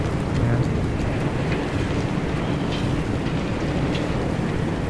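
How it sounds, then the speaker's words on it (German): Strong, steady wind roars through the open landscape of the video game Pacific Drive, a dense, unbroken rush filling the whole clip with no pauses or gusts standing out. "Das ist aber wirklich gerade sehr windig hier"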